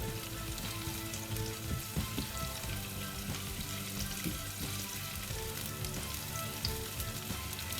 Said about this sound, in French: On appelle ça faire suer les oignons.